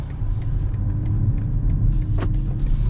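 A 2025 BMW X6 M60i V8 SUV pulls away with a low engine rumble and road noise from inside the cabin, steady and moderate, with a few faint ticks over the hum.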